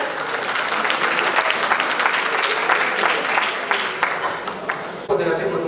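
A crowd applauds loudly and steadily for about five seconds at a college tech fest prize-giving, dense clapping that cuts off near the end.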